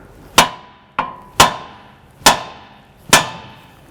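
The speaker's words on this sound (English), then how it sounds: "I'm going to go ahead and whack the back of the knuckle right here to release that tie rod" A hammer strikes the back of a 2006–2011 Honda Civic steering knuckle to release the tie rod: five sharp, loud metallic bangs, each ringing briefly, spaced unevenly about half a second to a second apart, with no talking.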